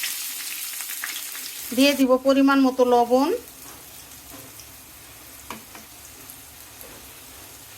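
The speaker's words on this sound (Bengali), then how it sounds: "চুলায় প্যান বসিয়ে দিয়েছি, তেল গরম হয়ে গিয়েছে। এখন দিয়ে দিব পেঁয়াজ কুচি" Chopped onion fries in hot oil in a pan, giving a steady, soft sizzle through the whole stretch while someone speaks briefly over it near the start.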